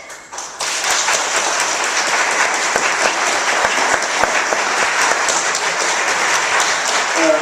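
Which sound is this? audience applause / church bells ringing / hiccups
audience applause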